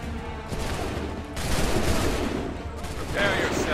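Musket volleys fired on command in Assassin's Creed III, several dense overlapping bursts of massed gunfire crashing in succession, loud and close, with a brief shouted voice in the mix.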